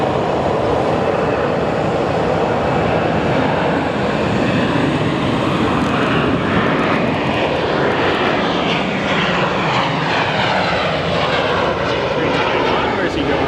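A jet airliner taxis at Sky Harbor International Airport, its engines a loud, steady roar with a broad whine that continues unbroken throughout, while voices talk faintly beneath.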